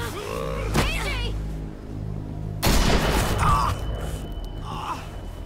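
Two booming sawed-off shotgun blasts in The Walking Dead game, each a loud sharp crack trailing into reverberation and a second apart, amid groans, gasps and game voices.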